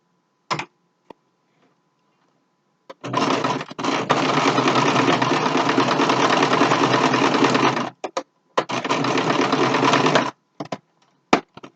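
A sewing machine runs in two long bursts of rapid stitching on a homemade fabric mask, separated by a short pause, with a few clicks and taps before and after.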